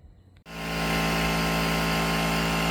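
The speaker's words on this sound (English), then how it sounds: "got the compressor making a bunch of racket" After a brief quiet moment, an air compressor in a workshop starts up and settles into a loud, continuous mechanical drone, used while painting restored Oldsmobile Super Stock III wheels.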